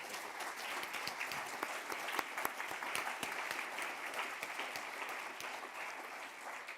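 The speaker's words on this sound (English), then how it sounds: "Applause for the panel." A conference audience at a closing plenary on geoeconomics applauds a panel, faint, steady clapping spread across the room, with a few sharper claps standing out.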